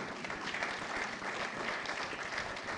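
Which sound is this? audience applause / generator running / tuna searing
audience applause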